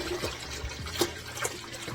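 Two gallons of water pour and splash into a pot, a soft continuous trickle with small bubbling bursts, fairly quiet and close.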